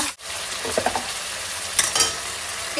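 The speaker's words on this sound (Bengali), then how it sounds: "পেঁয়াজ ভাজা হয়ে গেছে আবারও দিয়ে দিচ্ছি আদা রসুন পেঁয়াজ বাটা" Ginger, garlic and onion paste frying in hot oil in a pan, a continuous close sizzle with stirring scrapes and a few brief clatters, no voices.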